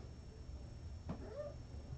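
A single faint cat meow rises and falls once, heard from a short distance against a quiet, humming background.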